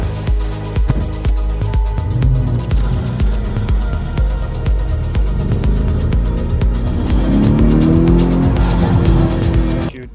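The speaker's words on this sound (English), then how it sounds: "I'm taking the beautiful purple Lamborghini" Purple Lamborghini Urus driving, a loud, steady engine drone with rising revs and some tyre noise throughout, heard from close up.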